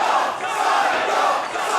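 A wrestling crowd at a Smash Wrestling event cheers and roars in a steady, dense wall of voices filling the arena, with no break across the moment.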